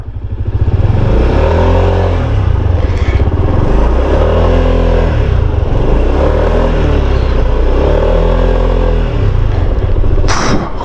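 A motorcycle engine runs loud and close as it threads slowly through a narrow maze-like passage, its idle rising and falling in steady rhythmic surges, with a brief clatter near the end.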